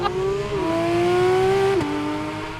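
A 2022 Porsche 911 GT3 RS accelerates hard on Silverstone Circuit, its engine note climbing steadily, dipping at a gear change and climbing again, loud and close with no talk.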